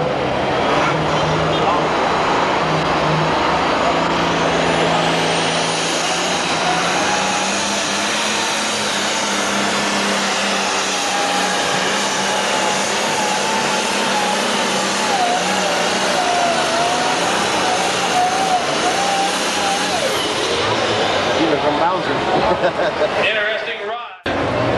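A 1991 NTPA 7500-pound super stock tractor roars loudly and continuously through a pull, its heavy engine drone steady and then rising in pitch toward the end, with an announcer talking over it.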